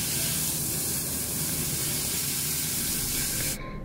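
Marinated steak sizzling loudly in a hot, oil-sprayed pan after being flipped, a dense steady frying hiss that holds for several seconds before cutting off abruptly near the end.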